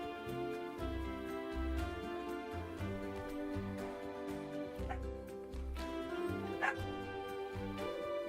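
Dogs in a Planet Zoo zoo simulation barking and yipping in short repeated bursts, with occasional whimpers over a steady background of game music, moderately quiet.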